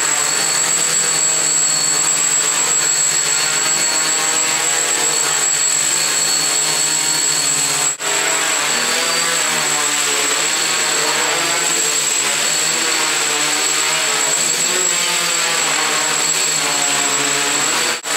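A multirotor drone running a DJI Naza flight controller buzzes loudly and steadily through a test flight, its propellers giving a continuous high whine with small shifts in pitch and a brief dip midway.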